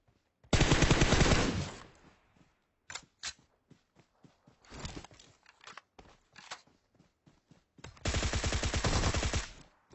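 Automatic gunfire in the battle royale game PUBG Mobile, loud rapid bursts at the start and end with scattered single shots and short volleys between, heard alone without talk.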